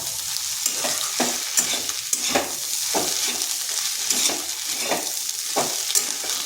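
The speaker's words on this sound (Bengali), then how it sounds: "মশলার সাথে ভালো করে মিশিয়ে নিচ্ছি।" Potatoes with turmeric, cumin, coriander and chili powder are stirred in a frying pan, a steady close sizzle cut by about a dozen rhythmic scraping strokes of the spatula, with no voices.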